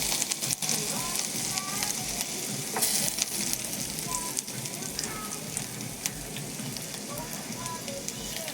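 Chopped onions sizzle in hot oil with whole cardamom, cloves and bay leaves, a dense, continuous crackling fry with occasional stirring and small pops, close and unbroken, with no voices.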